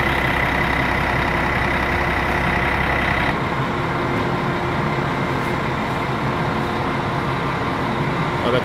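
A Mercedes bus engine runs with a loud, steady diesel rumble and hiss, the tone shifting abruptly partway through as the engine note drops, then continuing as an even drone.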